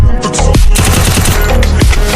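Rapid gunfire from an MP submachine gun and a shotgun in the Free Fire battle royale game, dense overlapping bursts with sharp blasts near the start, middle and end, loud and close, with no talking.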